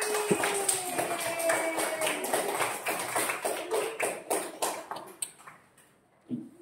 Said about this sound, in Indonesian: Tepuk tangan untuk kelompok Abi